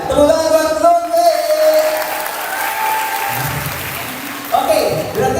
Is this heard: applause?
yes